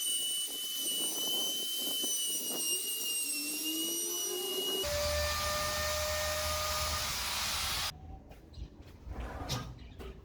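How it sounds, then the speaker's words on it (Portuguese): A router trims the edge of a wooden board in a home garage, giving a loud, high, steady whine that shifts pitch partway through and then cuts off, leaving quieter scattered noises. "tive que virar a tábua e cortar o resto com uma fresa laminadora"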